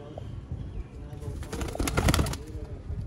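Rooftop pigeons, Sialkoti breeders, cooing and fluttering close by, with soft coos and a brief burst of wing flapping in the middle.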